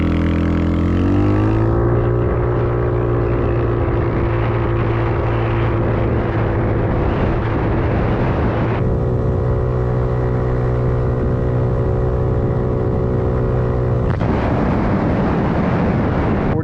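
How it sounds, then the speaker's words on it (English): A 50cc GY6 scooter engine with an exhaust leaking in two spots drones loudly and steadily with a raspy, sputtering exhaust note, its pitch rising then holding, with a shift partway through; no talking. "let me know what you think of this horrible exhaust. It's leaking probably in 2 different spots."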